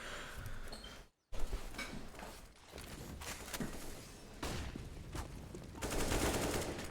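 Gunfire rattles through a Counter-Strike match on the Inferno map, with bursts of shots and a brief cut to silence between dense, noisy stretches of in-game fire and movement.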